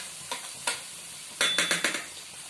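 Egg paneer moglai deep frying in hot oil, a steady close sizzle broken by several sharp scraping stirs and spatula knocks, with no talking.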